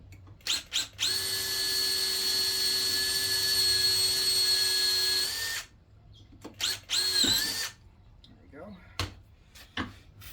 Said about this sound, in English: Before putting the bigger bit in, I'll just leave that one in there for a moment and drill this other one first.